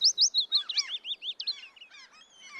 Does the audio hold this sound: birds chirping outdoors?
yes